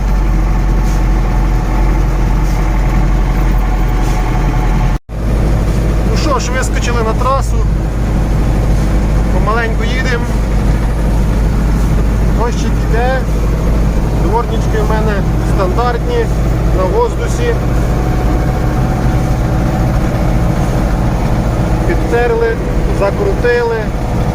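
A ZIL-130 truck crawls slowly over pitted ground, its engine a constant low, close rumble running the whole time beneath someone talking.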